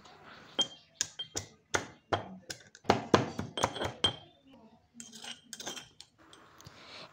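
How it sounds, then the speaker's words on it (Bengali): Ginger and green chillies being pounded in a mortar and pestle, a run of sharp, close knocks in a loose rhythm, some quicker and heavier in the middle, with a few softer taps toward the end. "একটা হামানদিস্তা নিয়ে নিয়েছি, দিয়ে দিলাম পরিমাণ মতো আদা আর 4 থেকে 5টা কাঁচা লঙ্কা দিয়ে একটু থেতো করে নেব"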